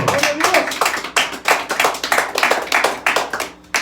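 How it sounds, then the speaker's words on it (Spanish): A church congregation claps for the Lord during a sermon, sharp close hand claps in a quick steady rhythm. "dele palmas al Señor"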